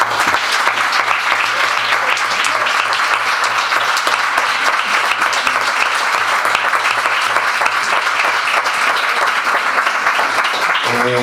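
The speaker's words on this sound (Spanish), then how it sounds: "Por eso os pido un fuerte aplauso para él." Sustained applause from an audience at a book launch in a booth at a book fair, dense and steady clapping that runs for about eleven seconds with a faint low hum underneath.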